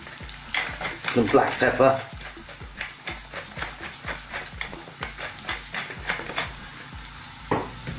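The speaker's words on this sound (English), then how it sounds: "Let's just get that garlic in there and infuse that oil." Garlic frying in oil in a pan for artichoke cream spaghetti, a close crackling sizzle with repeated stirring scrapes and taps, while someone talks briefly early on.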